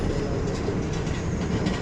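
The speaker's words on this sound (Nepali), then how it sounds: "ऊ यही हो है ट्रेन चाहिँ" A red train passes close by, its carriages giving a steady rolling rumble with faint rhythmic clatter of wheels on rails, loud and continuous with no talk.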